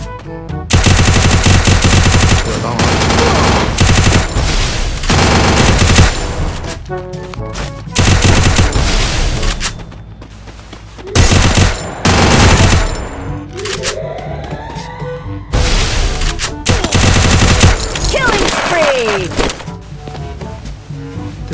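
Automatic gunfire from players' weapons, including a UMP submachine gun, in a Free Fire survival battle on a hill, with loud sustained bursts and rapid volleys broken by short pauses.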